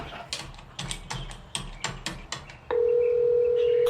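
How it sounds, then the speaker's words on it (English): A phone call being placed to a deputy mayor: a series of sharp, evenly spaced dialing clicks, followed by a steady electronic ringing tone that holds clearly until the end. "Oh my God, it's ringing."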